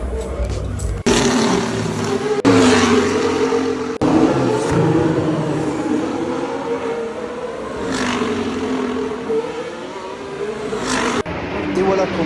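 Formula 1 cars at the Monaco Grand Prix heard from about four metres away, a loud continuous engine roar with rising and falling pitch as cars pass, with a person talking over it.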